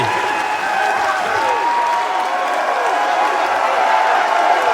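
Esports major crowd at a Rainbow Six Siege event in Atlanta, a dense roar of cheering and clapping from a large arena audience, loud and sustained for the whole stretch, with a commentator's voice running underneath.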